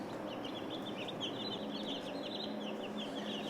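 Day-old American Bresse and Cornish Cross chicks peep and chirp continuously in a dense, high-pitched chorus, with many overlapping calls at close range and steady background noise.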